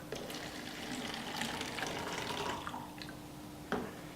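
Tap water runs steadily over tomatoes being washed, making a close, continuous splashing hiss with small drips, and a slight clunk near the end.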